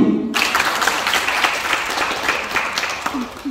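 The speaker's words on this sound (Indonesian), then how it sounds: "Tepuk tangan buat" Students at a school leadership bootcamp applaud Bang Heri, a loud full round of clapping that bursts in after a brief voice and holds steady, with a faint voice near the end.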